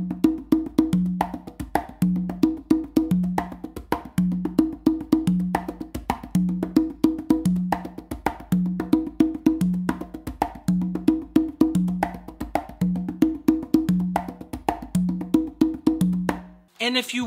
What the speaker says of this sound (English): So to play it all the way through, it's gonna sound like this.